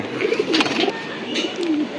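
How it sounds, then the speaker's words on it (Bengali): A female tournament racing pigeon coos close by in soft, low repeated calls, with faint background noise and no talking. "আরেকটি কবুতর মাদি কবুতর"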